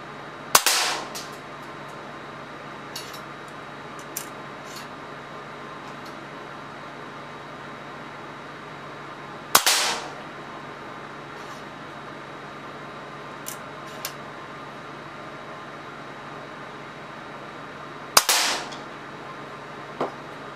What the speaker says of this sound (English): Well, I'll fire a couple more right now.